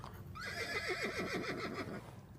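A horse in the Roblox game The Wild West neighs in a loud, descending whinny that lasts about a second and a half, heard close and alone over faint game ambience.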